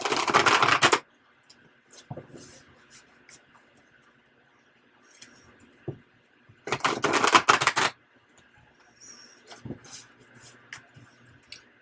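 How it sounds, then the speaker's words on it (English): Cards are shuffled in two quick riffling bursts, close and crisp, separated by quieter pauses with faint taps and handling noises. "And we'll shuffle once more."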